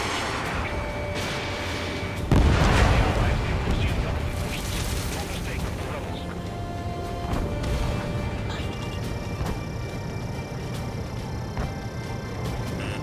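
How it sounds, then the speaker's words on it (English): Artillery fire in the Ace Combat 7 flight-combat game: a heavy blast lands early, then dense, rumbling battle noise and sustained electronic tones carry on throughout. "The artillery fire sent a number on my hearing"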